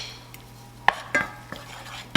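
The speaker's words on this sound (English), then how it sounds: "I'm gonna add some shallot in here." Shallot and salt cooking in a pan for a butternut squash and lentil curry, with a few distinct stirring scrapes and utensil clacks over a faint low sizzle, fairly quiet and close, with no talk.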